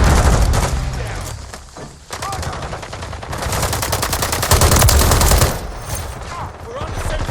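Call of Duty Modern Warfare III multiplayer gunfire, with sustained rapid automatic bursts and single shots in a loud, dense exchange, with faint radio-style voice chatter underneath.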